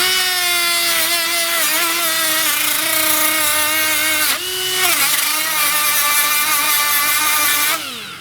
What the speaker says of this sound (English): I'm actually pointing the grinder strategically so that it blows the dirt away from the cylinder.